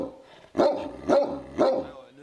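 Livestock protection dogs guarding a flock in the Vosges bark three times in an even rhythm, loud and close, with talk running underneath.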